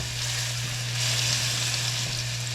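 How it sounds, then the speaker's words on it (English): Salisbury steak patties, pressed flat, fry in a pan on a stove with a steady, loud, continuous sizzle and a constant low hum beneath it. "we just want to cook these probably about"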